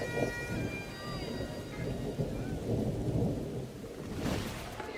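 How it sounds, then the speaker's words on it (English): Heavy rain pours steadily at an outdoor wedding while low thunder rumbles underneath, with a brief louder crackle of rain near the end, the whole scene moderately quiet and distant. "the skies open and down comes the dreaded rain"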